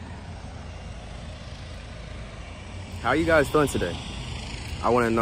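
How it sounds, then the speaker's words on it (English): Helicopter engine and rotor noise from a craft taking off near a park, a steady broadband rumble filling the background throughout while a person talks over it in the latter half. "That's a helicopter taking off."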